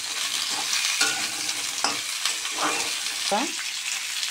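Pumpkin, broad beans and other vegetables fry in a pan while being stirred, with steady close sizzling broken by several sharp scraping strokes of a spatula.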